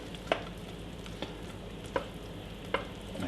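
Flour is stirred into melted butter off the heat to make a roux for lasagne: a faint, soft scraping with four light taps of the utensil spaced through the quiet clip.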